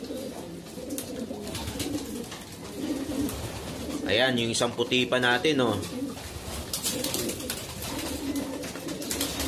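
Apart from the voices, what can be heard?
racing pigeons cooing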